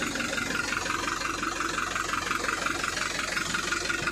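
A Honda 125 motorcycle engine fitted with a turbo idles through an open exhaust with no muffler, giving a steady, rough, close-up rumble with a regular pulsing beat and no talking.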